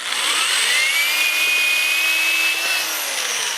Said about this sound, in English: let's put some pilot holes in here, I guess